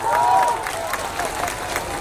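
An audience at a political rally in Jehanabad, Bihar claps in a dense, steady burst of applause that stays loud and even for a couple of seconds.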